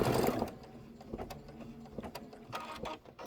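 A sewing machine stitches a white flower centre detail on a quilting project, giving a quiet, steady mechanical whir broken by small clicks and taps with no talk.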